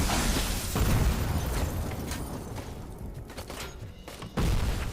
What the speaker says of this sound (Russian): Сразу начинаем все взрывать.